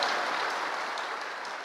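An audience at a Catholic men's conference breaks into thick, sustained applause, a loud, even roar of many hands clapping that tapers slightly toward the end.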